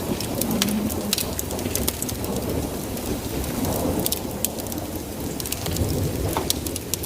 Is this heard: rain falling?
yes